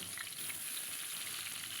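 Tengra fish fry in oil in a wok, a steady, even hiss of sizzling close by, soft in level and unbroken by talk over the brief span.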